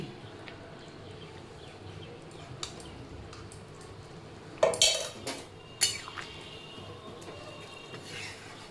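Chana dal kofta curry stirred in a pot after garam masala and ghee are added, with a low steady cooking hiss and a few brief clanks of the spoon against the pot.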